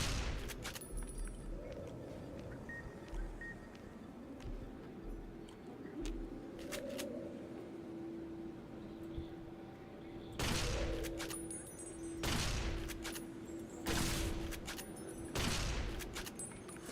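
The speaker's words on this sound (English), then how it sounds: "I'm shooting the wrong things." Gunfire from the player in Fallout New Vegas Dead Money: several loud, sharp shots spaced a few seconds apart over a steady low tone and quiet background ambience.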